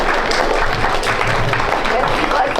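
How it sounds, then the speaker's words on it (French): Audience applause after a presentation at a talk about the sea, with dense continuous clapping filling the room at a steady level. "on peut l'applaudir je pense"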